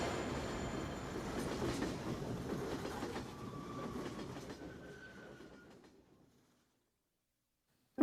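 A train rumbles and clatters past on the rails in a radio jingle, loud at first and fading steadily away into silence, with a brief squeal partway through and no talk.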